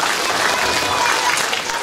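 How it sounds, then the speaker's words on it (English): An audience at a live children's concert show in Perth applauds in a dense, steady burst of clapping that fills the space, close and loud throughout with no pauses. "Give them all a round of applause."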